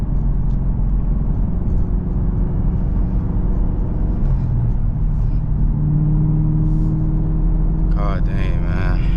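A supercharged 650 hp Chevrolet Camaro ZL1 V8 with a six-speed pulls hard from inside the cabin, a loud, steady low engine drone rising slightly in pitch, with a voice breaking in near the end.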